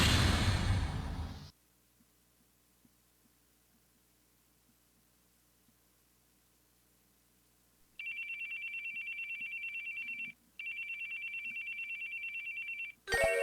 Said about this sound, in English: That would be my phone that's ringing.